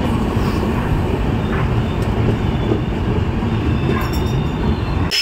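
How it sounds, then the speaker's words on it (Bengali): A Garib Rath Express passenger train rolls into New Cooch Behar station, giving a steady loud rumble of wheels and carriages with faint metallic squeals, heard up close from on board with no voices. "আমাদের ট্রেন এখন নিউ কোচবিহার ঢুকছে"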